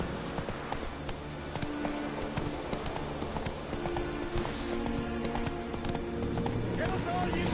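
A horse gallops in The Witcher 3 video game, its hooves beating a steady, rapid clip-clop that stays up close throughout. Speech runs over the hoofbeats.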